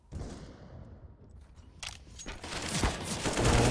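Gunfire exchanges in Counter-Strike on the Nuke map during a competitive match, with scattered shots early and a denser burst of firing building toward the end under a busy game background.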